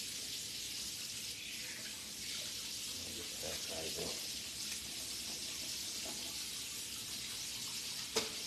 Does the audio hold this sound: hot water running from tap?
yes